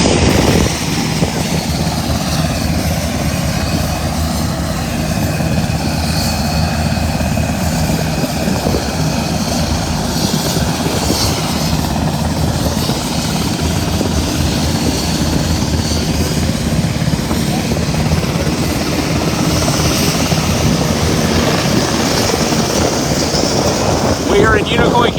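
A rescue helicopter's loud, steady rotor thrum fills the air throughout, close and unbroken, with wind roar over the microphone, during a rooftop rescue at a hospital in Unicoi County, Tennessee.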